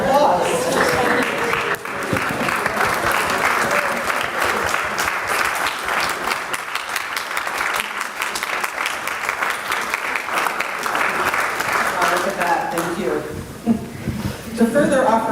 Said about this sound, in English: please stand up so that we can show you our appreciation with our applause